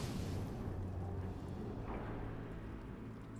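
A volatile gel explosion in the video game Metroid Prime 3: Corruption, heard as a dense, rumbling blast that sustains a broad low roar for several seconds and slowly thins out, with no talk over it.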